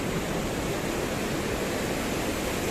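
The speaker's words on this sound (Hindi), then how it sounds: "यहाँ से पानी गंगा जी में जा रहा है" Water flows over the dam into the Ganga at Har ki Pauri, producing a dense, steady roar of rushing water that stays loud and unbroken throughout, with no voices.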